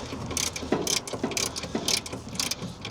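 A ratchet wrench tightens battery bolts on an American Clipper, giving close, crisp clicking in quick repeated strokes of about six pulls over three seconds, with no talking.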